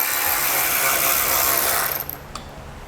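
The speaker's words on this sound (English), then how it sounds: "I'm going to take out these top 2 screws just to pull it away from our radiator here. Use a 7mm socket." A ratchet with a 7 mm socket removes screws from a panel near the radiator of a 2017 GMC Acadia. It makes a loud, close, continuous buzzing whir for about two seconds, then fades to a few faint clicks.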